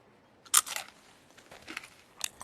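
Crunching as someone bites and chews a hard, dry puppy snap dog treat: a loud close crunch, then a few softer crackly chews and a final sharp bite, with no talking.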